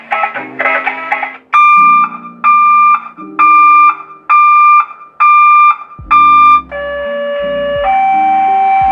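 An electric reversing alarm module for a bus or truck sounds loud repeated electronic tone pulses, about six evenly spaced beeps, followed by a sustained rising tone, with no voices.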